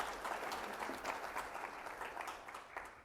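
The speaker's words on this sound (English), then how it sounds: "So big round of applause, okay?" An audience at the opening session of the International Cyber Cup competition gives a round of applause for the sponsors, a steady wash of many hands clapping at moderate distance, fairly faint.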